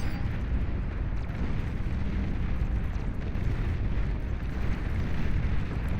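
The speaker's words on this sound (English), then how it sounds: "We do have those Juno missiles now firing away into the distance." Juno missiles firing in the real-time strategy game Beyond All Reason, a dense continuous rumble of distant launches and explosions blending into a steady low roar.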